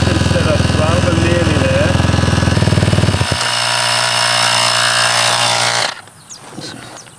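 A small air compressor runs off a motorbike battery with the engine switched off, inflating a motorbike tire. A loud, steady buzzing rattle shifts tone partway through and cuts off near the end.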